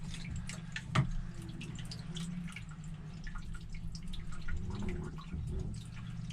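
Water dripping from a leaking stuffing box inside a sailboat's hull, a soft steady trickle with one sharper drip or knock near the start, close by and moderately quiet against low background rumble.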